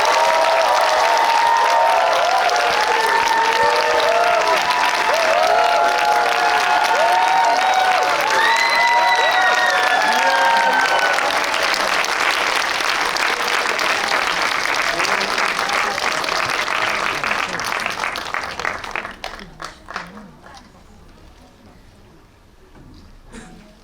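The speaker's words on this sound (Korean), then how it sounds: "박수에 좀 집중을 해주시기를 부탁드릴게요" A cinema audience at a screening Q&A applauds loudly as the director and actors of Concrete Utopia enter, with cheering and excited shouts mixed into the clapping, which fades out after about eighteen seconds.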